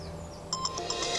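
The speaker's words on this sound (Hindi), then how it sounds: "कहीं फोन बज रहा है। ये तो जिहान की रिंगट्यून है।" A mobile phone ringtone chirps in a short run of bright electronic tones in a Turkish drama, coming in after a quiet moment at moderate level.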